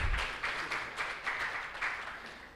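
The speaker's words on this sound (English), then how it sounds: "A huge round of applause," At a retail industry event, an audience claps for the panelists, a fairly quiet burst of applause with a rhythmic, pulsing quality heard from some distance.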